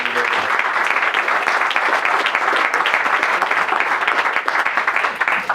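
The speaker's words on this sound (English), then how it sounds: "I'd like to call for another round of applause for Ross and his wonderful people." Audience at a ribbon cutting ceremony breaks into steady, dense applause, many hands clapping continuously at fairly close range for several seconds with no break.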